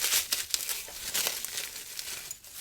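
A package from Portugal being unwrapped, bright crinkling and rustling of wrapping material in steady close bursts, no talking.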